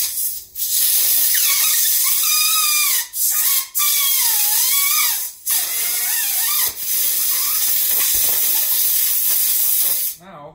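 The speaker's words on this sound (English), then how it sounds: "to get the grip off the end of the bar, I just like to use a little bit of compressed air" Compressed air blasting to lift a grip off the end of a Coleman CT200U handlebar makes a loud, steady hiss broken into several bursts, with whistling, squealing tones sliding up and down between short pauses.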